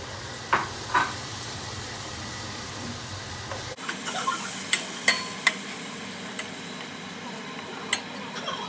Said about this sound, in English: the first thing you're going to cook is the garlic and the onions, because they cook the fastest